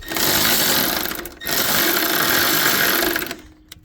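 A Milwaukee M12 impact gun with a long 70mm socket works a rack bolt loose on a 2009 Honda Civic rack and pinion, two loud sustained rattling bursts close up, briefly interrupted, then stopping.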